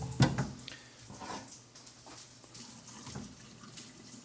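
Boiled potatoes and their salted, garlic-flavoured cooking water pour into a kitchen sink. A short splash opens the sound, then a soft, steady stream of water continues faintly to the end.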